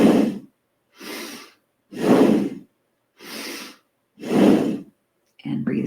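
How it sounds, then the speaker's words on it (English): Bellows-style bhastrika breathing during a yoga practice: five forceful, rapid breath bursts spaced about a second apart, each loud and close, followed by the start of another breath. "Take 1 normal breath in, a normal breath out, and 3 bellows breaths."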